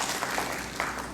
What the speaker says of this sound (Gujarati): તો જે લોકો કરે છે એના માટે જોરદાર તાળી આપો ને